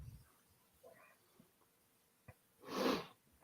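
A person coughs: after faint scattered breath and mouth noises, one breathy, moderately loud cough bursts out near the end, followed by the start of another sharp sound.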